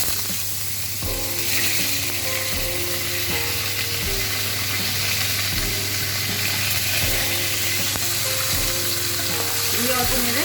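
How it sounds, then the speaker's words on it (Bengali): Radish pieces fry in a pan with a loud, continuous sizzle that runs the whole time, joined by repeated scraping and clicking from stirring, and no one speaks. "মূলগুলো দিয়ে দিলাম।"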